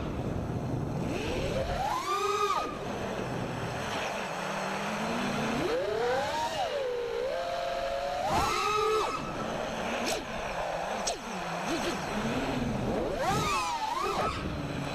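An FPV drone with Dalprops T5045C or T5046C propellers whines through sharp throttle punches, its motor pitch swooping up and down in bursts between steadier hovering hum, with constant wind-like noise underneath.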